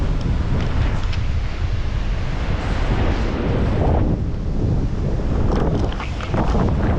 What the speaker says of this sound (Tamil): பயங்கரமாக காற்றடிக்குது